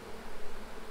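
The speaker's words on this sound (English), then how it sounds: "So you can see they're doing a lot of fanning." Honey bees fanning inside a shaker box stocked with young shaken bees and a frame of brood and pollen make a dense, steady buzzing drone, close and continuous with no voices.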